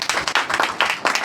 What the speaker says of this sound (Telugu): అభినందిద్దామా చప్పట్లు పెట్టి?